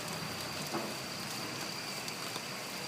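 Steady, quiet hiss of rain falling, broadband and continuous with no distinct drops, and no voices.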